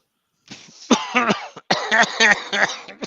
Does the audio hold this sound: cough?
yes